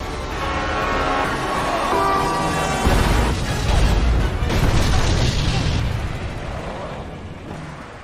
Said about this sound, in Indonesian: sebuah kereta api yang sedang melaju dengan kencangnya